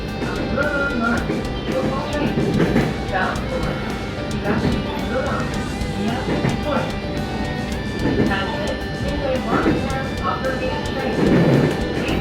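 A local train running through open prairie on a sparsely used rural line, a steady rumbling roll with periodic clunks and rattles over the whole stretch, heard from on board with continuous running noise.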